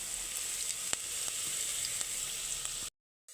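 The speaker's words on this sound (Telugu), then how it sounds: "పచ్చిమిర్చి కూడా వేగినాయి" Green chilies frying in hot oil in a pan give a steady, close, crackling sizzle with a few sharper pops, then cut off abruptly near the end.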